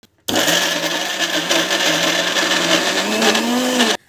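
A kitchen mixer grinder whirs steadily at full speed for about four seconds, a loud continuous motor whine with a rising pitch, starting and stopping abruptly with no voices.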